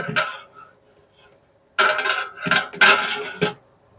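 Mutton biryani for 120 people stirred in a large cooking pot, heard as a few loud, close metallic scrapes and clanks of a ladle against the pot, separated by quiet gaps.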